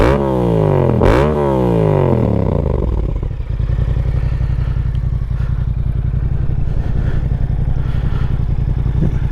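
Yamaha MT-07 motorcycle fitted with a Yoshimura exhaust, heard loud and close as it revs sharply up and down, then settles into a steady, throbbing ride for several seconds with no talking.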